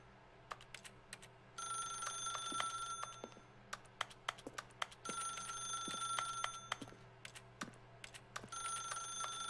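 An electronic telephone ring repeats in two long bursts separated by a pause, with sharp clicks and taps scattered throughout in a quiet room.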